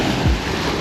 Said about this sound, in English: All these waves crashing on my feet.